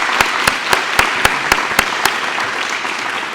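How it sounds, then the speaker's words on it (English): Audience at a community foundation fall grant ceremony giving a round of applause, a dense even patter with a few sharp, close individual claps standing out at regular intervals. "a round of applause for them."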